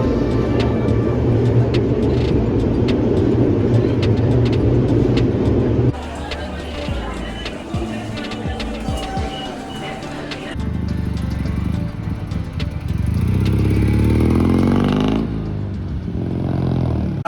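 Cars pass along a city street in Japan with a steady roar of engines and tyres, loud and close, shifting as vehicles go by, while people talk over the traffic.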